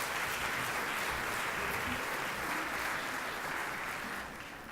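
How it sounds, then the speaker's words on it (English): Sustained applause from a conference plenary audience fills the room, dense and steady throughout, tapering slightly near the end with no talk over it. "let's give one more applause to our speaker"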